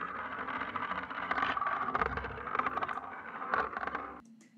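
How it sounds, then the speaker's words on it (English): A lead sound processed with the Curtiss King Roly Toy ambient effect gives a hazy, warbling midrange tone with soft crackly texture, steady and moderately quiet, fading out at the end. "the Curtis King Roly Toy effect, which sounds like this. It's really, really cool. Gives it sort of an ambient vibe."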